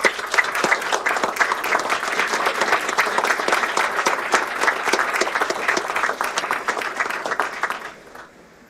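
Audience applause at a county commissioners board meeting, honoring a search and rescue team: dense, sustained clapping from a standing crowd, loud and even for about eight seconds before tapering off at the end.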